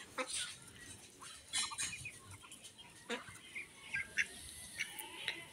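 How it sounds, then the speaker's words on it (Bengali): Month-old ducklings on a small home farm make a busy, faint flock chatter of high peeps and soft quacking calls, scattered and overlapping throughout with no talk. "এগুলো আমাদের হাঁস।"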